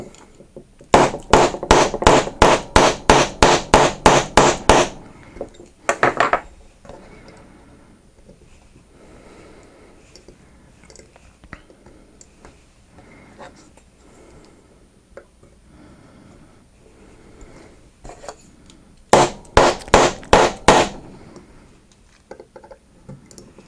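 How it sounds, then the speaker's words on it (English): Two bursts of rapid, evenly spaced hammer blows ringing sharply, separated by a long stretch of quiet handling noise. "you're basically hitting something with a hammer"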